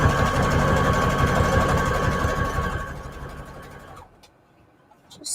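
A sewing machine runs a zigzag stitch on a junk journal page with an index card pocket, a steady close mechanical whir and rapid needle chatter that stops about four seconds in, followed by a faint click.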